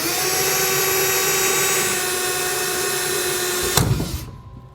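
A steady, loud power drill whines continuously while grinding through the metal frame of a 2018 Ram 3500 truck, then stops abruptly near the end with a brief clatter as it winds down.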